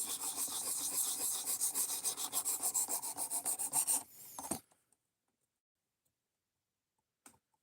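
Light polishing passes on a blade being sharpened give a rhythmic series of rasping strokes for about four seconds, close and fairly loud, then stop abruptly, followed by near silence and one faint tick.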